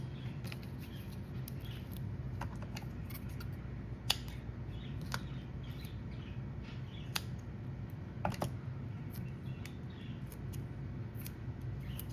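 Scissors cutting craft foam for card making, heard as quiet, scattered snips and clicks close by, including a few sharper cuts, over a soft room hiss with no talking.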